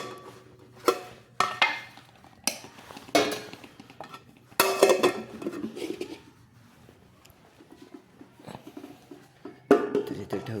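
A lid covering a dish of cooked vegetables in a small room, with pots and utensils clinking and clattering in irregular, fairly close bursts and quiet gaps between them, no voices heard.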